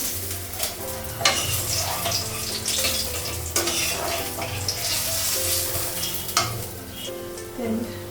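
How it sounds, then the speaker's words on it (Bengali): Rohu fish frying in a pan of oil crackles with a continuous close sizzle, broken by frequent stirring scrapes and clinks of a spatula against the pan, with no talking. "ভাজা হয়ে গেছে মাছগুলো।"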